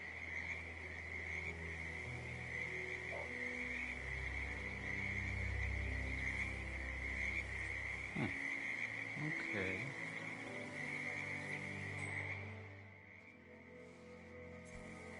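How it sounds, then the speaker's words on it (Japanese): A poison frog croaking in Hitman 2, heard as a steady high trilling drone over low ambient rumble, with brief speech partway through before the croaking cuts off near the end. "毒カエルがいる。"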